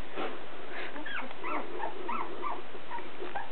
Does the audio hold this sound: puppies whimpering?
yes